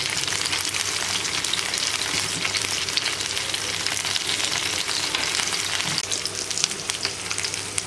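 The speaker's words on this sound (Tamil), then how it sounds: "இது 2-3 நிமிஷம் நல்லா ஃப்ரை ஆகட்டும்." Prawns fry steadily in a pan over a medium flame, a dense, even sizzle that stays loud and continuous throughout, with no voices.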